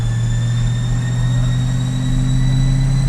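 Corvette C8 engine held at about 2,000 RPM in fourth gear on a dyno, a steady deep droning hum with a constant whine above it, loud and close throughout.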